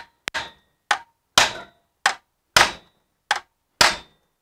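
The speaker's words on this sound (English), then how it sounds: "I am going to now hammer this bolt or this sleeve out a little if I can." A hammer strikes a sleeve to drive it out of an E46 alternator, giving eight sharp metallic blows spaced about half a second apart, each ringing briefly before it fades. The strikes sound close and loud, with no talking.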